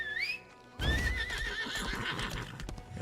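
A horse mount in the video game Lost Ark whinnies loudly, then clip-clops along with steady hoofbeats and a second neigh under game ambience, no talking.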